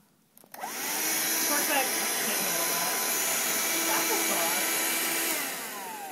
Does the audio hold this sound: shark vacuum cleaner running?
yes